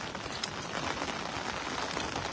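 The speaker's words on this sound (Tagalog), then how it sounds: "Umuulan dyan, Idol Ran." Rain falls outdoors during cast-net fishing, a steady, even hiss of drops with no clear gaps, at a moderate level throughout.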